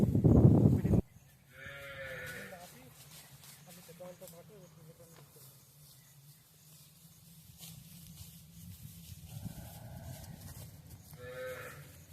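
Calves on a dairy farm moo in several drawn-out calls, a pair near the start and more toward the end, with quieter barnyard ambience and a brief loud burst at the opening.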